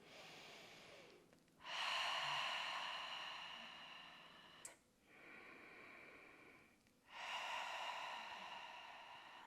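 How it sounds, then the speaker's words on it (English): A person breathes out slowly and deeply during a yoga session, with three long, airy exhales separated by short pauses, close and fairly soft, with no talk. "Breathe out a few times."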